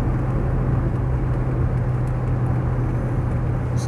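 Steady cabin drone of a Mercedes 280CE automatic travelling at about 55 mph, with constant engine hum and tyre rumble throughout and no talking.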